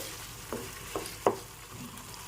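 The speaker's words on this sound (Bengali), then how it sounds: "আর এখন দিয়ে দেবো টমেটো আর ক্যাপসিকাম এবার একটু নেড়ে চেড়ে নিতে হবে" Tomato and capsicum are stir-fried in spice paste for dahi aloo dum. A steady soft sizzle runs throughout, and three quick spatula scrapes come about half a second apart.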